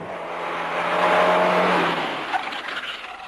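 A 1984 Peugeot 205 GTI charges up a hill climb course, its engine note swelling loudly as it nears and passes, with a brief tyre scrub before the sound fades away.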